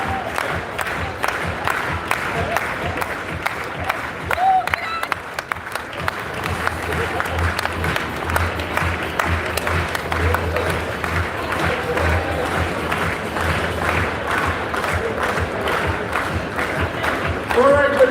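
An audience at a company awards event applauds for the whole stretch, with steady, dense clapping and some cheering from a crowd in a large room.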